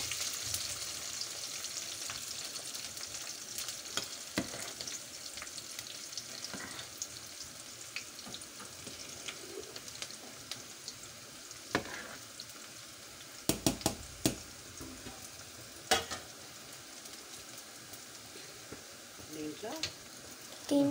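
Vegetables frying in a pan for a home-cooked paneer curry, a soft continuous sizzle with occasional sharp clinks and scrapes of a utensil, with a voice speaking over it at moments.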